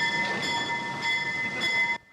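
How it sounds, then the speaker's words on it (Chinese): A replica of the world's first steam locomotive for public railways rolls into a station at a railway 200th anniversary celebration, giving a steady, close rumble with sustained whistle-like tones before cutting off abruptly. "火车冲出水烟，道道入站。"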